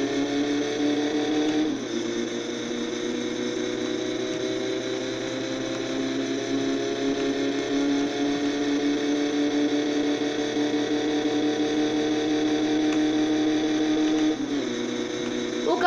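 Satsuma car engine in My Summer Car, fitted with a racing carburetor and running on a dyno without its original exhaust, revs loudly and steadily with a buzzing, harmonic-rich tone and brief dips in pitch, with no talk over it.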